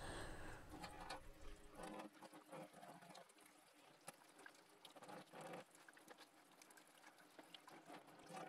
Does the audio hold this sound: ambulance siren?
no